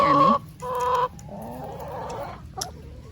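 Backyard chickens cluck and squawk loudly and close by in short bursts, with a softer murmuring cluck between them and a brief sharp peck-like tap near the end.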